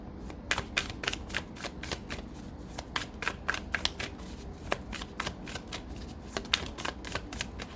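Tarot cards being shuffled and drawn, a rapid series of crisp riffling snaps and flicks close up, steady rhythmic bursts repeating throughout with no talking.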